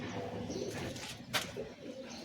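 Kaldoma pigeons, a fancy breed with patterned tails, give low throaty coos close by, a few short rounded calls over a busy background.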